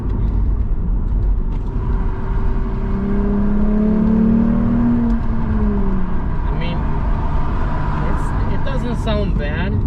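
A Lexus IS350 F Sport with its resonator deleted drones and rumbles from the exhaust as the engine climbs in revs, a steady loud in-cabin roar with a rising tone, while a person talks over it.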